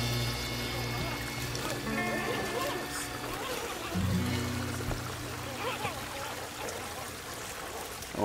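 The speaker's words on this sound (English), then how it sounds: "Mini waterfall." A small mini waterfall trickling and splashing steadily at an outdoor RC crawling spot, with a continuous watery pour and a tonal motor-like hum running underneath throughout.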